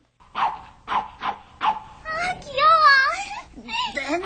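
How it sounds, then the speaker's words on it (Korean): A chihuahua barks in a run of quick, close yips, then gives a whining, wavering whimper and more short barks, with a voice mixed in. "강아지인가 했는데 몸 놀리는 품이 그게 아닌데? 이게 무슨 종이야? 치와와예요."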